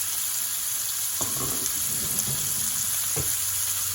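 Mushrooms frying in olive oil, a dense continuous sizzle up close with several scraping strokes of a utensil stirring through the pan.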